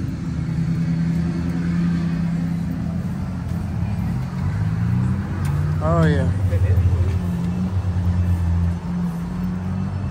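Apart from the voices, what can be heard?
2006 Chevrolet Silverado truck engine running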